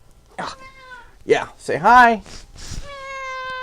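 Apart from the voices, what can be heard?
cat meowing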